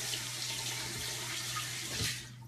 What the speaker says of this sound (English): I'm gonna run this water and rinse this off.